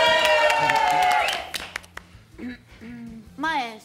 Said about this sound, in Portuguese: Aplausos! Mais aplausos, mais aplausos, mais aplausos!